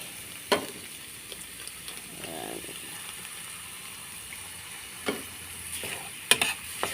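An egg frying in a pan gives a faint, steady sizzle, with a few sharp clicks and scrapes of a utensil scattered over it.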